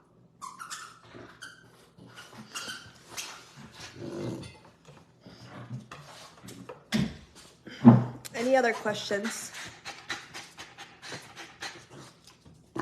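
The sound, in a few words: dog panting while humping a toy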